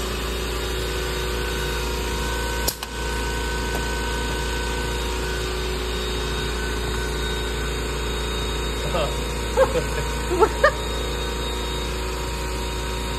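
A shop vac runs steadily on a DIY CNC mist collector, a constant loud drone with high whine throughout, one brief thump early and a few faint clicks near the end.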